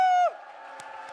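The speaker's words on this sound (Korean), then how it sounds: "승리의 함성." A church congregation at an evening autumn revival meeting lets out a loud victory shout, one strong held cry that slides downward and gives way to a lower wash of crowd voices.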